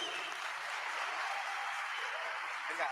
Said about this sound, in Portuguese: Salva de palmas, galera, pro Linhares.